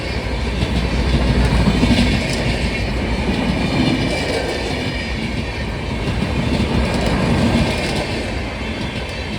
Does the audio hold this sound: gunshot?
no